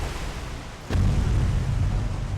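A sudden deep blast in the naval video game War on the Sea breaks out as a ship is hit and set on fire, then gives way to a loud, sustained low rumble of burning and further explosions.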